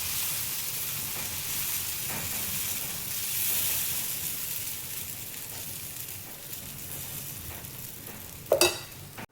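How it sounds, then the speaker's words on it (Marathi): Moong dal chila frying in ghee on a hot iron griddle, a steady close sizzle and hiss that swells and eases, ending with a brief sharp scrape of a spatula, no talking. "थोडंसं तूप लावून घेते मी तव्याला तवा गरम झालेला आहे"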